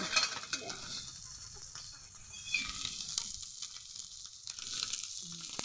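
Small pond fish fry in hot oil in a home kitchen, a soft continuous sizzle with occasional faint clinks of utensils and a bit of quiet background talk.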